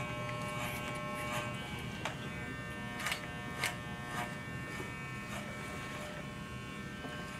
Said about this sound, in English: as the shape of the head changes, the clipper comes away from the head